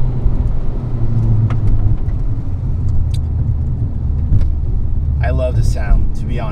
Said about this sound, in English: As soon as you get on the throttle, you can definitely see that the car is spooling way quicker.